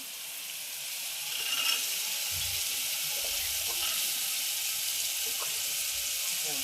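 Soaked chana dal added to a pan of spices and green chillies, sizzling and frying in a steady hiss with faint stirring clatter, continuous and moderately loud.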